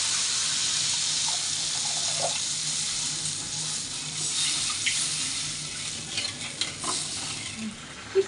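Water pours into a hot pan of fried spices, setting off a loud, steady hiss and sizzle that runs unbroken for several seconds, with faint clatter near the end.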